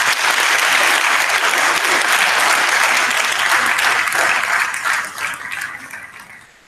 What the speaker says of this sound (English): Let's give that group of students a round of applause.